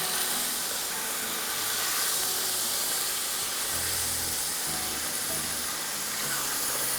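Chicken frying in a pan for biryani gives a steady, loud hiss and sizzle that stays even from start to finish, with no talk.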